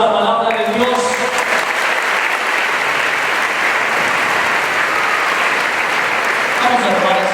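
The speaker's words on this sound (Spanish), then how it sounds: "Un aplauso a la palabra de Dios." A church congregation applauds steadily and loudly for the reading of the word of God, with sustained clapping filling the whole stretch.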